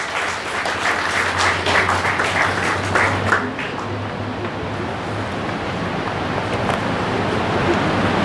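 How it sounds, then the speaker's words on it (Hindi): An audience at a Teacher's Day celebration in a Brahma Kumaris hall welcomes a guest onto the stage with continuous, moderately loud clapping from many hands over a low steady hum. "बहन साधना चड्डा जी का भी हम जोरदार तालियों से स्वागत"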